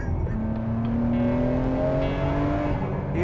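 A 1000 hp Nissan R34 engine revs hard at high RPM, a loud continuous roar with rising harmonic whine climbing steadily, close and unbroken throughout.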